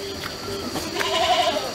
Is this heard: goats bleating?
yes